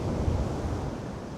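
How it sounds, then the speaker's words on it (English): Ocean waves roll and wash onto a fishing beach while steady wind buffets the microphone, a continuous close roar of surf and gusts with no talking. "The waves are really pushing in"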